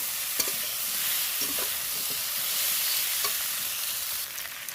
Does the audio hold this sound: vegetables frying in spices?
yes